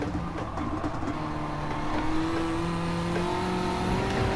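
Front-wheel-drive hot hatch with paddle shifts in Gran Turismo 7, its engine holding a steady, rising drone at close range with no pauses, as if pulling through a corner.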